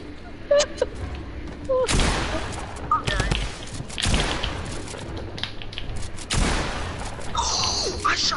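Video game gunfire rings out in several loud, sharp volleys spaced a second or two apart during a competitive scrim match, with players talking over the shots.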